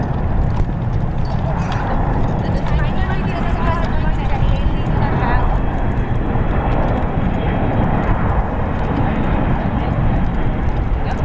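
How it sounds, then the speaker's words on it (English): United Airlines Boeing 777-200ER landing at San Francisco International Airport, a loud continuous engine rumble and roar under ongoing speech. "Magnificent landing by the 777."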